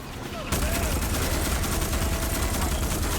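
Continuous heavy gunfire roars through a video game battle, a sustained loud barrage after a brief quieter opening, with a voice faintly under it.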